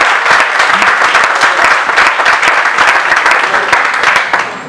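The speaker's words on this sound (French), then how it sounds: "Même s'il n'est pas là, on acclame, on acclame, on acclame" A crowd at a gathering bursts into dense, sustained applause, loud and close, many hands clapping together without a break before it tapers off at the end.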